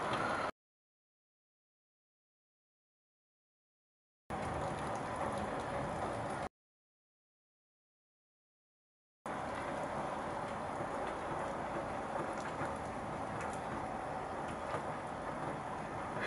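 Heavy rain pours steadily at the start of a thunderstorm, a dense, even hiss broken by two gaps of silence.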